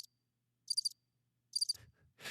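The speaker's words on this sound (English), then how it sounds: "I got crickets going in the background" Two short bursts of cricket chirping, each a quick trill of several pulses, heard faintly and alone against near silence, followed by a few soft thumps and a brief rush of noise at the end.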